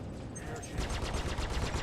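Rapid rhythmic gunfire striking a ship's shields in Star Citizen, a quiet, muffled stream of evenly spaced impacts starting a moment in and continuing steadily to the end.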